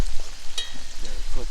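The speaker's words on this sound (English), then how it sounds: "Got some venison and garlic and butter." Venison with garlic and butter frying over an outdoor fire in a backyard bushcraft camp, a loud close broadband sizzle filling the moment with brief stirring scrapes.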